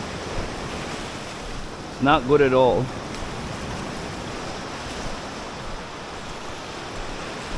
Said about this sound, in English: that water is real rough, guys